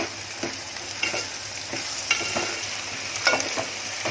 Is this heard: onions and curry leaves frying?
yes